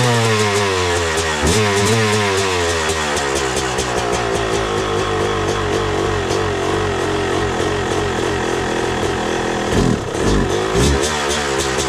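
A Yamaha YZ250 two-stroke dirt bike engine runs loud and close, a steady buzzing idle with repeated throttle blips and revving swells, alone with no talk.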